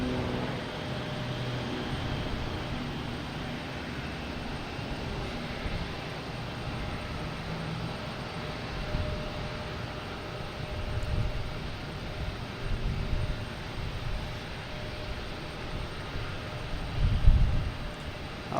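An SAS airliner rumbles at Boston Logan Airport with a broad, continuous jet roar holding at a moderate distance, swelling slightly near the end.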